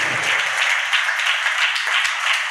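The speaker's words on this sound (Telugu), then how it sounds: "గట్టిగా చప్పట్లు కొడుతూ దేవుని నామాన్ని మహిమపరుద్దాం." A church congregation claps loudly at a pastor's worship service, a dense continuous wash of applause filling the whole moment, with no speech over it.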